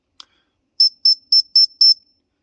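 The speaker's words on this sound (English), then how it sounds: "I'll give a little blow of the whistle" Five short, shrill blasts from a survival whistle on a ferrocerium rod, in a quick, even series, each about a fifth of a second, after a faint click; otherwise quiet.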